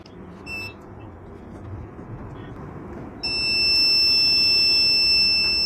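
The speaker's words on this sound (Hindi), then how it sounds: "लगातार इंडिकेटर आ रहा है और बजर की आवाज़ भी आ रही है" A low-battery warning buzzer on a home inverter powering a heating rod starts partway through as a loud, steady high-pitched tone and keeps sounding continuously, following a few faint earlier beeps.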